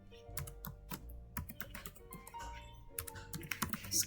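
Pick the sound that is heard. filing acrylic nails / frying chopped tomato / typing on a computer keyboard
typing on a computer keyboard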